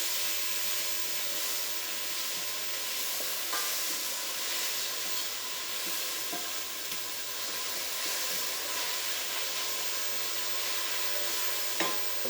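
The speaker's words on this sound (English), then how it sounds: "Next, we're going to add our sugar so that dissolves. We just incorporated it through the onions." Red onions frying in a pan as sugar is stirred through them for caramelised red onion chutney: a steady, close sizzle and hiss with occasional soft spoon scrapes, no talking.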